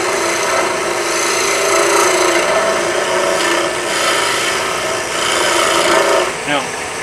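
A roughing gouge cuts a wooden tool handle spinning on a lathe, giving a continuous close rasping, scraping sound that swells and eases slightly, with a brief squeak near the end.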